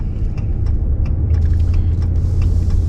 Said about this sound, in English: Here we go, driving up Main Street.